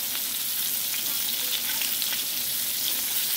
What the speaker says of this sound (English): These are frying on the other side, and then I'm going to take them out.